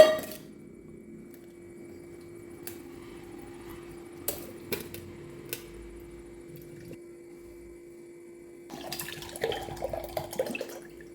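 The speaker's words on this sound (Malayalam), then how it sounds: "വെള്ളം ഒരു പാത്രത്തിലേക്ക് മാറ്റാം" A quiet room with a low hum and a few isolated clicks and taps, then a short burst of water splashing into a container near the end.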